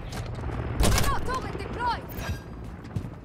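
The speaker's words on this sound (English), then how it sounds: "Who just shot me?" Gunfire crackles in a shooter video game: a sharp burst of shots near the one-second mark, then scattered quieter shots and game effects with someone speaking over them.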